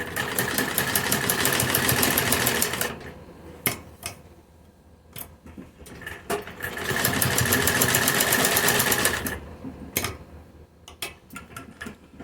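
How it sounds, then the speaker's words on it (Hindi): A sewing machine stitches a kurti round neckline. Two long steady runs of fast mechanical whirring are separated by quieter gaps filled with ticks and handling clicks. No voices are heard. "नीचे की तरफ से हम इस तरह से इस पर सिलाई लगाएंगे।"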